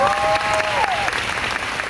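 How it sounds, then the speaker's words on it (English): A crowd gives a round of applause, a steady, dense wash of clapping that fills the whole moment with no break, while a brief tonal sound glides underneath near the start. "Can I borrow your hands and give her a round of applause, please?"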